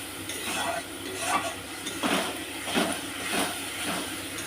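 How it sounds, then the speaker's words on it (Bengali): Bhetki fish curry stirred in a cooking pot, with a few soft scraping and clinking strokes of a spoon against the metal over a low sizzle, fairly close and without talk. "দিয়ে এবার আমি আরেকটু নাড়াচাড়া করে নেবো।"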